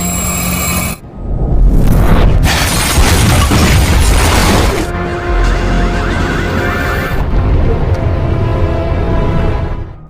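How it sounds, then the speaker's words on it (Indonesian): A house blows apart in a film explosion, a sudden loud blast that bursts in after a brief drop, then a dense roar of crashing debris and rumble that holds steady for several seconds with no voices. "sebuah ledakan terjadi begitu cepat dan seketika menghancurkan tempat tinggalnya tersebut"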